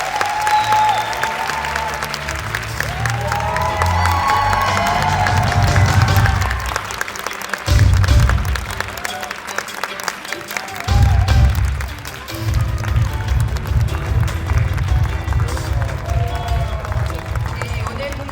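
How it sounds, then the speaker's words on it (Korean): Audience at a Korean dubbing event for the film Wicked applauding and cheering as two musical actors are welcomed onstage. Dense clapping with music and an announcer's voice runs throughout, briefly dipping before swelling again. "큰 박수와 함께 박수 주시기 바랍니다."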